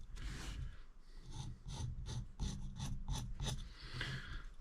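A bevel knife scrapes around the rim of a freshly drilled hole in a Motiv Evoke Hysteria bowling ball, producing close, faint rasping strokes in a quick series of short scrapes.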